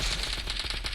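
Rapid automatic gunfire from a first-person shooter video game, a dense steady stream of shots filling a brief one-second burst with no talk over it.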